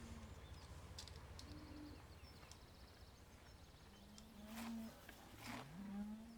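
Cows lowing on a farm in Farming Simulator 17, several low moos spaced apart at moderate distance over a steady ambient hum, with faint bird chirps and no talking.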